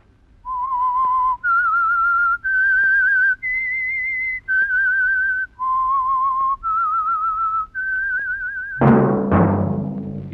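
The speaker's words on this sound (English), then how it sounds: "that whistle is your signal for the Signal Oil program" A lone whistler performs the eerie theme of the old radio mystery drama The Whistler, sponsored by Signal Oil, eight clear sustained notes rising and falling in a slow melody, followed by an orchestral chord.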